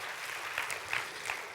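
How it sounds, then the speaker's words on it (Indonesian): A church congregation applauding during a sermon, a faint, diffuse patter of clapping heard from a distance with a few sharper claps standing out. "Berikan tepuk tangan buat Tuhan Yesus."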